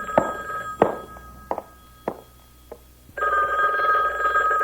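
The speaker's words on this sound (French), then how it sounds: "Oui, c'est le téléphone qui sonne." An old telephone bell rings indoors in a few short bursts with knocks between them, then gives one long loud ring near the end.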